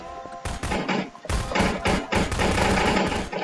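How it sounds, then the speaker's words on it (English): Gunfire crackles through a Garry's Mod match, loud close bursts of rapid shots broken by short pauses, then a sustained stretch of firing near the end. "Guys shooting everywhere."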